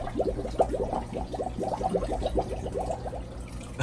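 Water rushes out of an aquarium tank into a Penn Plax Cascade Marlin canister filter, a quick run of gurgling, bubbling spurts over a low steady hum.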